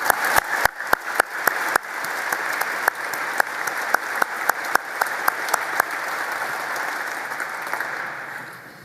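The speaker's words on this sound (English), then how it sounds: "Let's give them all a round of applause." A large audience at a defense forum breaks into a round of applause, steady dense clapping with a few sharp, louder claps standing out early on, gradually settling toward the end.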